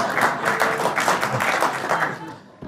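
Studio audience at a late-night comedy show breaking into applause, a dense, sustained round of clapping that tapers off toward the end, fairly loud and close.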